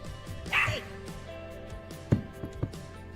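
A nine-week-old puppy barking at its own reflection in a mirror, a few short yips and woofs close by, with a voice talking in the background.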